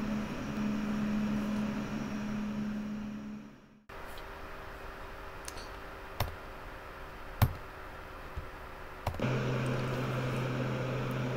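King Air turboprop engine drone in flight in the simulator X-Plane 12, a steady mid-level hum with a tonal whine that cuts out briefly, then resumes alongside occasional clicks.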